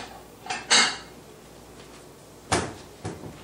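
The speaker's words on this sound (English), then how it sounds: "So I'm just going to take this and put it on a plate." A dish of Brussels sprouts is set onto a plate in a home kitchen, giving a few close, short clinks and clatters of crockery: two around the start, then two more a couple of seconds later.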